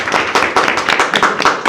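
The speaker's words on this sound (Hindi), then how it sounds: "ताली बजा दो बच्चों" Children at a village government school clap together in a quick, bright burst of applause, close by and fairly loud with uneven overlapping hand slaps.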